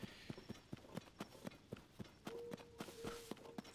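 Horse hooves clip-clop at a steady trot in Tears of the Kingdom, a run of sharp, evenly spaced hoofbeats heard close and clear, with a brief sustained tone sounding partway through.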